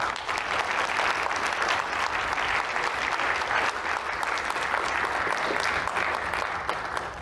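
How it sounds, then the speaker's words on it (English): A lecture audience applauds steadily as Professor Katya Pas is introduced before her quantum chemistry talk, a dense, sustained wash of many hands clapping at even loudness for about seven seconds. "So could you please give a massive round of applause for Professor Katya Pas?"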